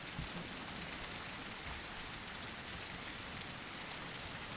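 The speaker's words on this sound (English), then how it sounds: "rain sounds relaxing" A steady wash of rain falls in the video game The Isle Evrima, a dense and even hiss of drops striking surfaces throughout, soft and continuous with no voices.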